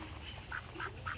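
A Canada goose (called a Canadian duck), one of several donated birds, gives three short nasal honking calls spaced roughly evenly over steady outdoor background noise, fairly close and moderately loud.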